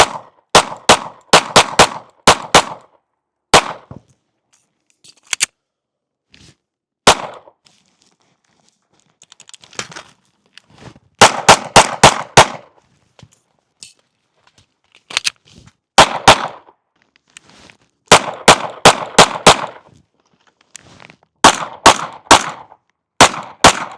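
A SIG M17 P320 pistol, the US Army service handgun, fires in sharp, loud repeated shots, grouped in rapid strings with short pauses between volleys.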